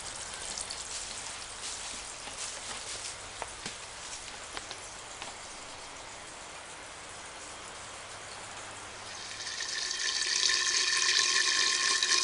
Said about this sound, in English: Here goes the first filling cycle with plants in the system